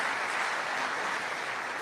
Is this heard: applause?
yes